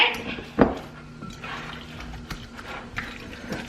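Salmon patty mixture being mixed in a bowl in a home kitchen: soft wet squelches and occasional clinks of a utensil against the bowl, fairly close, with one sharper knock early on.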